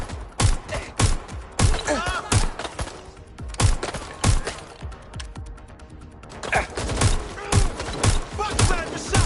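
Rapid gunfire rattles through a shootout in Watch Dogs Legion, sharp repeated bursts and single shots, close and loud, with brief pauses and voices shouting under the fire.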